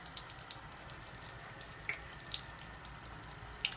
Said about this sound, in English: This is acidic water.